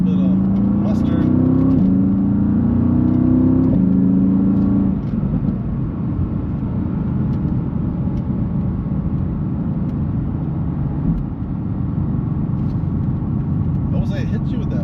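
A Mercedes AMG GT engine rumbles steadily from inside the car as it accelerates, its pitch rising through the first few seconds and then settling into a low drone. A voice talks over the engine the whole time.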